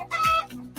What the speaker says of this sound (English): I can't hear them over chickens in the background